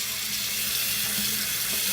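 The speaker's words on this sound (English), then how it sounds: "I'm actually just rinsing my hair, rinsing my hands." Tap water runs steadily into a sink while hands are rinsed, an even close hiss with no pauses and no voices.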